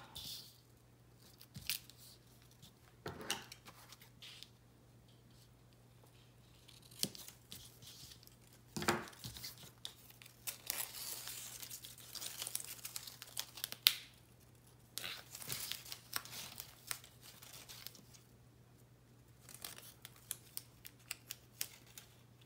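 Scissors snip a paper planner sticker free, with scattered short cuts and crinkling of paper at close range, quiet, with no talking and a low steady hum underneath.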